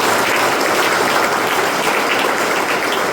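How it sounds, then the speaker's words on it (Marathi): Loud, sustained applause from a church congregation clapping for Jesus, a dense unbroken wash of hands that stays even throughout. "एक जोरदार टाळी येशूला."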